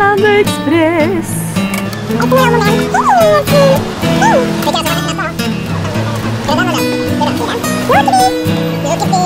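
A dog barks and yips repeatedly in short bursts aboard the Arlanda Express train, close and loud, with whimpering pitch rises between barks over a background rumble.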